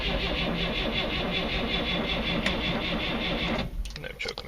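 A 1965 Datsun engine cranks over and over on a cold start with the choke pulled, a steady mechanical churn that runs for several seconds and then breaks off into scattered clunks and knocks.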